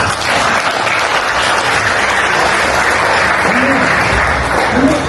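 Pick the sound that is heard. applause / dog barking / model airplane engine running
applause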